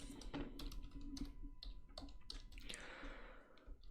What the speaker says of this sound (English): And now we can type text.